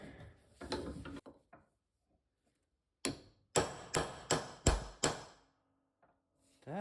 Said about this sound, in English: Let's go ahead and get this seal knocked out now